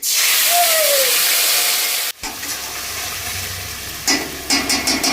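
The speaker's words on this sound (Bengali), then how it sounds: "আদা জিরা বাটা দেওয়া হবে। এখন এটা বেশি ফুটবে।" Ginger-cumin paste lands in a hot pan for a Bengali potato curry, and a loud, sharp sizzle bursts out. It then settles into steady frying with scraping stirs, and someone talks briefly.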